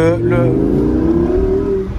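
A Lamborghini Huracan accelerates nearby, its engine note climbing in a strong steady tone with rich harmonics, while a person speaks over it.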